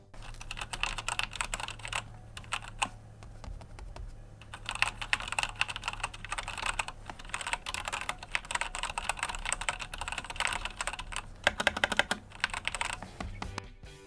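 Rapid, steady typing on a Razer BlackWidow TE Chroma V2 mechanical keyboard, dense clicky keystrokes running continuously and close up, with a few brief pauses.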